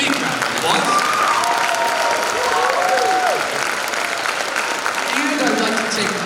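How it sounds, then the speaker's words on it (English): An audience applauds student musicians at an elementary school band and orchestra spring concert, a loud, sustained wash of clapping with voices and cheering mixed in. "So please give all of our musicians here a big round of applause."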